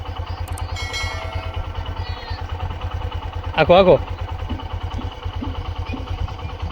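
A motorcycle engine idling on a village farm path, a low, steady chugging pulse that runs throughout, close and moderately loud, with someone speaking briefly over it.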